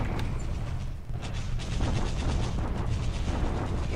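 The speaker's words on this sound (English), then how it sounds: "He's bombarding me." Naval bombardment in the War in the Pacific strategy game comes through as a fairly faint, continuous run of rapid gunfire cracks and rumbling bursts, with no break between them.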